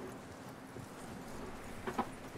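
Faint, scattered hoof clip-clops from a horse on a hard surface in the video game Red Dead Redemption 2, with a couple of sharper knocks near the end; no talking.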